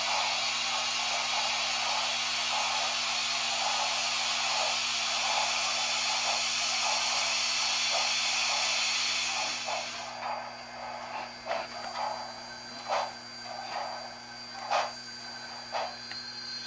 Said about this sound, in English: Also, it's got the cylinder cocks open too.